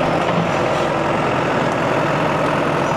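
A John Deere 5520 tractor engine runs steadily at close range, a loud continuous low diesel rumble with no pauses while it backs out and shoves a huge storm-downed oak.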